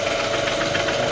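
A homemade belt grinder motor runs at speed, holding a steady, loud, close whirring hum with a constant tonal whine throughout.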